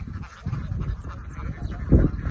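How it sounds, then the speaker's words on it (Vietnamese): Geese kept at a rural home in Trà Vinh, Vietnam, give a few close, harsh honks in a short burst over low ambient noise. "Ảnh có nuôi con ngỗng nữa hả?"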